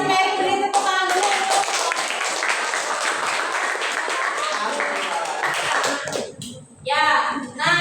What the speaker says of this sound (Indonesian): terima kasih Mary, beri tepuk tangan dulu